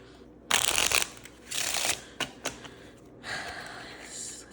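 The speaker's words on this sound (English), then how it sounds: "Let's do 4 more shuffles." Tarot cards are shuffled in several quick riffling bursts separated by short pauses and a few soft taps, close and fairly quiet.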